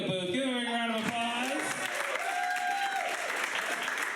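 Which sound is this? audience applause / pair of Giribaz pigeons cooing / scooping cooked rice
audience applause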